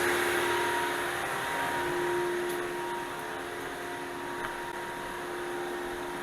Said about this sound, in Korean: 펜이 지금 강제로 온도하고 연관없이 강제로 좀 최대로 돌리고 있는 거예요